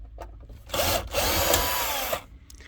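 Power drill backing out bolts from the rear seat of a Mercedes W124 coupe, a close, loud whirring burst of about a second and a half that cuts off sharply, with short quieter taps before and after.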